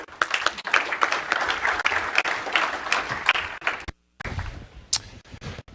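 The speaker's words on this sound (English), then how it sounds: "So let's all give a round of applause to Scott." A conference audience at a space industry event applauds a speaker, with dense steady clapping for about four seconds that cuts out abruptly, then a thinner scattered patter of claps trails off.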